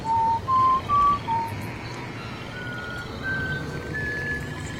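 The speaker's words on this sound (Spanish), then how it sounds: "se comunica con un francés silbando la melodía de Frères Jacques" Someone whistles the tune of Frère Jacques in a Robin Hood film scene, a few clear sustained notes at first, then softer, longer tones over a low background rumble.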